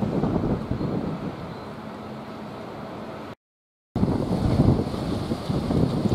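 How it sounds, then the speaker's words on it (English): Strong wind gusts across a microphone in an outdoor cemetery, a loud continuous buffeting roar that cuts out briefly partway through and then returns just as heavy. "It's extremely windy here"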